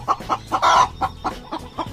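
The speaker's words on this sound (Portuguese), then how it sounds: "Galinha." Domestic chicken clucking in a quick, fairly steady series of short, close calls, with one louder, longer squawk partway through and no voices.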